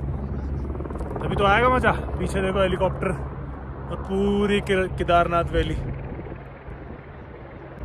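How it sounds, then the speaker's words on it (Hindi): Helicopter rotor noise thrums steadily in the background at Kedarnath in the mountains while people talk over it throughout. "पीछे देखो हेलीकॉप्टर"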